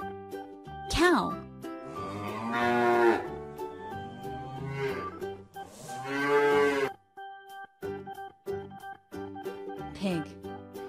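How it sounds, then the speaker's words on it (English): A cow moos in a few long, loud calls, each one alone against a quiet background with brief pauses between them. "cow."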